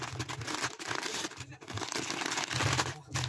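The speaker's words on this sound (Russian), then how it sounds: "Делаем распаковочку, открываем вот так" Advent calendar packaging being opened and unwrapped, giving close, steady crinkling and rustling of paper and plastic with a few louder crackles.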